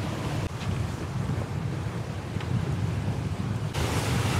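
A Dufour 560 sailing yacht moves under sail off the Croatian coast, with steady, loud wind roaring across the microphone and the wash of waves against the hull running throughout, unbroken and without voices.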